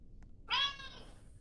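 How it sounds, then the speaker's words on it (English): A cat lets out a single clear meow of about a quarter second, close and fairly loud over a quiet room hum, with no one talking. "Whose cat is that?"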